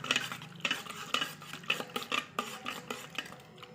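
Homemade strawberry wine is stirred in a container, a close spoon scraping and sloshing in a steady rhythm of about two strokes per second, with no one talking.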